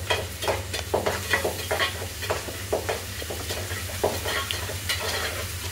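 Onions with ginger-garlic paste and green chilies fry in a pan for chicken cheekulu, a steady close sizzle broken by repeated scraping strokes of a spoon stirring through the mixture.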